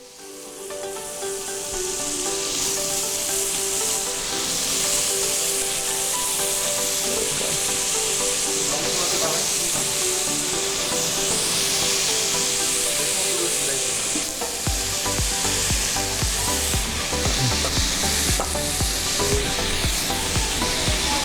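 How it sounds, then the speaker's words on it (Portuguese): Pirarucu fish steaks fry in hot fat for a caldeirada, a loud continuous sizzle and crackle that holds steady throughout, with no talking. "ó o barulhinho, sinal que a gordura está quente"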